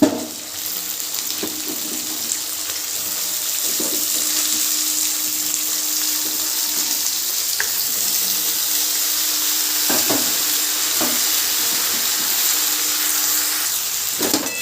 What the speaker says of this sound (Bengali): এবারে আমি ধুয়ে রাখা সবজিগুলো সব দিয়ে দিচ্ছি